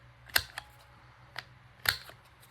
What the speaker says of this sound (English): I'm going to do some rounded corners on these. I'll do the smallest radius.